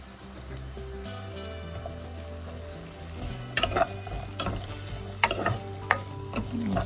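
Potatoes frying in a pan with curry leaves and fenugreek for a Sri Lankan curry, a soft steady sizzle under a low hum, then several sharper scraping stir strokes near the end.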